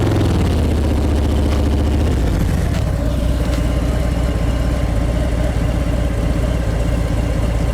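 A motorcycle engine idles and pulls low through a full-lock U-turn from a stop, a steady close rumble with a slight shift in pitch early on as the clutch engages.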